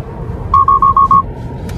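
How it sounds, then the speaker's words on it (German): A Tesla Model 3 forward collision warning: a rapid series of five identical high electronic beeps, loud and evenly spaced, over a low engine rumble. "wenn das Fahrzeug plötzlich einen Signalton gibt"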